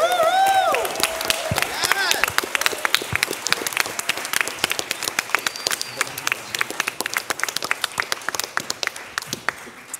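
An audience applauds, a dense burst of clapping that thins out into scattered claps over several seconds, with a few cheers at the start.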